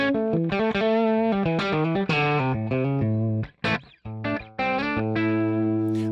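Gibson SG electric guitar played through a Line 6 Helix Brit Trem Jmp Marshall-style amp model, recorded with a 4038 mic: a crunchy, overdriven riff of chords and single notes, close and loud, with a couple of brief breaks.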